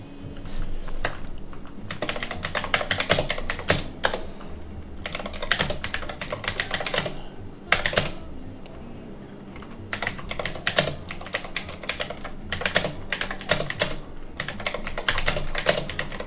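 Fast, steady typing on a computer keyboard during a live trading stream, with dense bursts of key clicks separated by brief pauses, close and fairly loud, with no voices.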